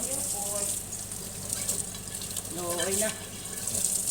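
Tap water runs steadily for dish washing in a home kitchen, a soft hissing flow that continues throughout, with faint clinks and a person speaking briefly over it.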